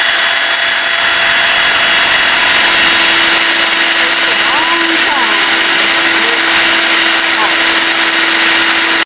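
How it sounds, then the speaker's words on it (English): A steady high-pitched power drill whines continuously at close range, drilling out a stripped screw on an RV roof fan, with a constant mechanical hum and no pauses. "we are going to drill out this screw because I stripped the head"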